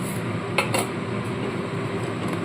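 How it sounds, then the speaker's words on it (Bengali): Milk and sugar stirred in a pot while making firni, a soft steady scrape and swirl of a spoon against the pot with a couple of light clinks, close by and continuous, no one speaking. "চিনি দিয়ে খুব ভালো করে মেশাতে থাকবো"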